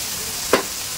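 Chopped capsicum and a ginger-garlic-green-chili paste fry in oil on a street-food-style tawa, giving a soft continuous sizzle with one brief stirring scrape near the middle.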